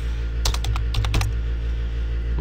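A quick burst of about eight crisp keystrokes on a computer keyboard while entering a spreadsheet formula, close and clear over a steady background hum, then stopping.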